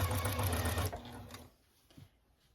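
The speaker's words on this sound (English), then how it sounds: "Put my foot down and stitch, back stitch, and then sew all the way down." A sewing machine runs steadily while stitching quilt binding at a quarter-inch seam allowance, a loud continuous whir that stops after a second and a half and leaves quiet handling sounds.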